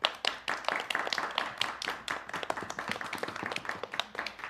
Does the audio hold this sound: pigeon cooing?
no